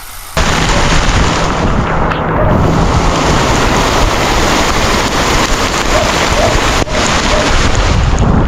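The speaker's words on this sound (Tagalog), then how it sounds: "So ayun mga kamotovlog, umuulan." Heavy rain pouring down in a dense, loud, steady hiss, with a brief shift partway through as the roar continues unbroken.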